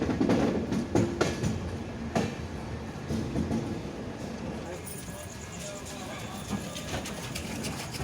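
Purvanchal Express passenger train running on the line into Naihati Junction, with a steady rolling rumble and a few sharp clanks near the start, while a voice talks over it.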